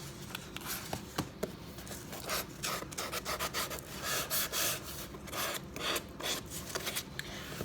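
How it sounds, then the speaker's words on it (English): Paper edges of a handmade craft journal are sanded by hand, giving a close, soft rasping rub in quick repeated strokes with light taps from a wobbling table. "just sand off my edges here"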